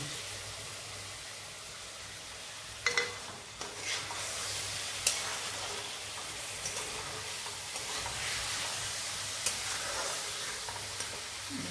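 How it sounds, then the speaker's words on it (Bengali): Onion sizzling and frying in a pan with a few stirs and clinks as tomato is added, for an Indian-style zucchini dish; a steady close sizzle runs throughout with no talking. "পেঁয়াজটা কিছুটা ভেজে নিয়েছি। এখন এর মধ্যে আমি টমেটোটা দেবো"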